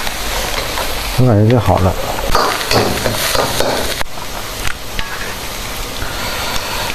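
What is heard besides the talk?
stir-frying cucumber in a wok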